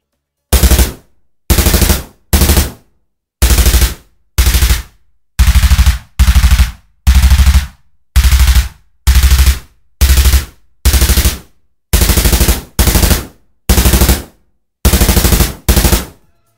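Synthesized machine gun fire from a weapon sound patch, heard as loud close bursts of rapid automatic shots in a steady stop-start rhythm, each burst about half a second long with silent gaps between.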